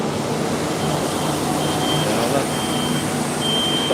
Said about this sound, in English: Don't walk behind the truck, sir. It's going to reverse.